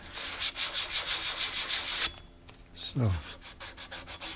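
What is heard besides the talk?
hand sanding an old brass door handle with 320 grit sandpaper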